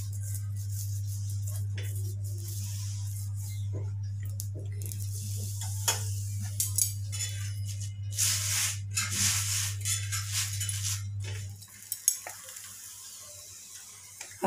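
A ghee-brushed cauliflower paratha fries on a pan with a soft, steady sizzle, punctuated by light scraping and spreading sounds, while a low constant hum runs underneath until it cuts out near the end.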